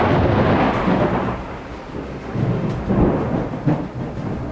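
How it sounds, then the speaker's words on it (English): Heavy thunder from a lightning strike very close by on a horse farm during a storm, a loud continuous rumble with swelling low booms and rain beneath, no voices. "the ground just got hit by lightning very close to us, and Keith and I just felt the effects"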